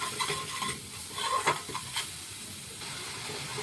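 Masala seasoned with salt and red chili powder being sautéed in a pan, a soft close sizzle broken by bursts of scraping and stirring, fairly quiet and without talk.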